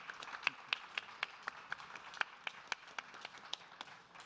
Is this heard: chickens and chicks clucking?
no